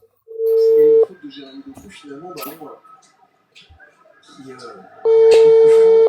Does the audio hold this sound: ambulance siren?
no